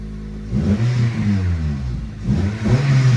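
A car engine rumbles close by and revs up twice, the pitch climbing with each rev before settling.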